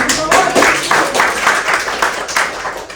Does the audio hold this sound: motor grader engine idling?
no